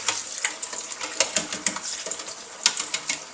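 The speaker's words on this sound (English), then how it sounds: "Crack them a little bit." Boiled eggs having their shells cracked, a string of small sharp crackling taps at an uneven pace, close up, with no voices.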